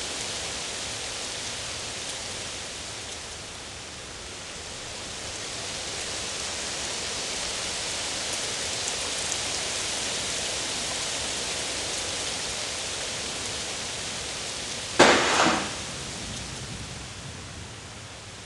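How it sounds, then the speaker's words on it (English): Steady hard rain falls in a dense, even hiss that swells slightly, with a sharp brief crackle or splash standing out near the end. "It was a hard rain, a perpetual rain, a sweating and steaming rain."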